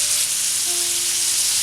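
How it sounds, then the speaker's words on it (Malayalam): Chicken pieces frying in hot oil in a pan for a kudampuli chicken curry, giving a steady, close, even sizzle throughout with no talking. "ഇത് പെട്ടെന്ന് വേകാനും കൂടി ആട്ടോ ഇതുപോലെ ഇങ്ങനെ ചിക്കൻ വറുത്തെടുക്കണത്"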